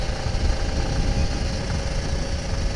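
A Kawasaki Ninja RR 150 two-stroke motorcycle engine drones steadily and loudly up close while riding on a straight road, a continuous buzzing rasp with no talk.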